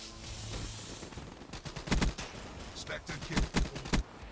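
A video-game gun fires in quick bursts of sharp shots, then in a few separate pops, loud and close, with someone talking around the shots.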